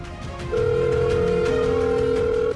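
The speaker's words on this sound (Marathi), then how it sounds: "फोनच उचलत नाहीयेत." An unanswered phone call rings out as a steady electronic ringback tone over the line, close and clear, with no one picking up or speaking.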